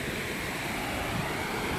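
A constant roar of water pours from the Yagachi dam at Belur through gates opened just six feet, dense and unbroken, heard up close without any speech.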